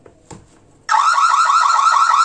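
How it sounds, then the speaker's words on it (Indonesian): The Teknobi smart battery camera NVR monitor sounds its alarm: after a few faint clicks, a loud, steady electronic wailing tone switches on abruptly and keeps sounding close by. "Jadi di sini juga ada alarmnya bisa diaktifkan ya."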